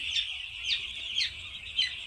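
Poultry chickens on a small farm, seven days old, give four short, separate clucking calls about half a second apart. The calls are fairly close and clear over a low background hum, with no talking.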